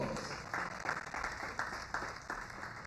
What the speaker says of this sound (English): Prince Anderson, let's give him a round of applause.